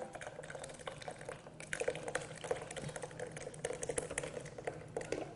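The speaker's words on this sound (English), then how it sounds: "You just pour the cooled ingredients right inside." Cooled ice cream base poured into a Cuisinart ice cream maker, a faint continuous trickle and splash of liquid against the bowl with small ticking and clicking sounds, no voices.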